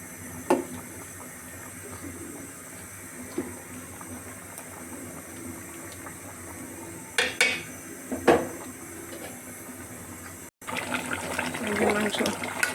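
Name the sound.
meat being stir-fried with spices in a pot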